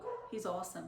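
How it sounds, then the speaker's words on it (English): A neighbor's dog gives a few short, close yips and whimpering barks in quick succession, overlapping a man's speech. "that's my neighbor's dog."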